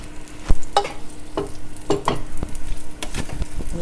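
Browned lamb pieces going into a hot pan, sizzling and frying with a few sharp clatters and stirring sounds, close and fairly loud with no talk.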